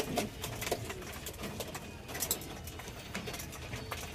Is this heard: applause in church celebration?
no